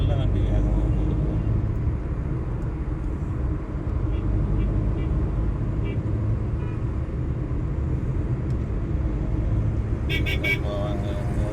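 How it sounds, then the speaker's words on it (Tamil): Steady loud road rumble from a vehicle driving fast on a highway between Salem and Chennai, with continuous engine and tire noise and a brief higher rattle near the end. "இது நல்ல வண்டி வேகமாக போகுது"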